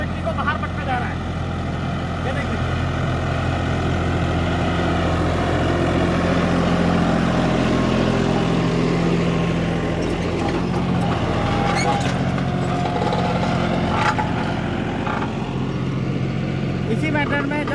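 A tractor drives forward while ploughing a field by the casting method, throwing soil outward. Its steady low engine drone runs continuously and fairly loud, with broadband soil and machinery noise and a voice speaking over it.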